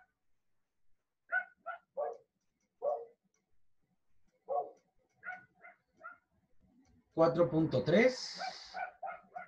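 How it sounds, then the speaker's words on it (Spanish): A dog barks in a run of short, separate calls behind a lecturer's voice, then a louder burst of noise with overlapping talk near the end. "Ah, ese maldito perro es, ¿verdad?"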